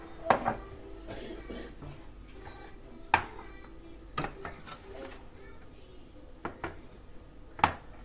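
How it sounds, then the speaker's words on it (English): A spoon stirring tea in a cup, with sharp intermittent clinks against the rim spaced unevenly over several seconds, faint room noise beneath. "Let me stir the third one."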